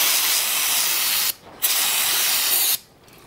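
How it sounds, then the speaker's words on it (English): Brake cleaner sprayed from an aerosol can onto a Gen V L83 cylinder head during a valve spring install, two loud, steady hissing bursts of about a second each, close up, separated by a short pause. "A little bit of brake clean."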